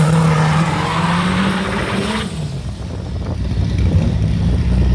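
A drag racing car launching on a practice run at a Sorocaba drag strip, a loud engine roar that surges and then drops to a lower rumble as the car pulls away, with no talking.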